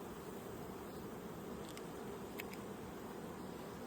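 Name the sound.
bees buzzing during hive inspection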